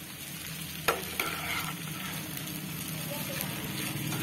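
Sabudana khichdi being stir-fried in a pan, a steady close sizzle with a couple of sharp spatula knocks near the start, running continuously throughout with a faint low murmur beneath.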